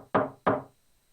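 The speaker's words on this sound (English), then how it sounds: "suddenly hear a knock at the door" Two firm knocks on a mansion door in the Code: Realize game, evenly spaced, close and clear, followed by quiet.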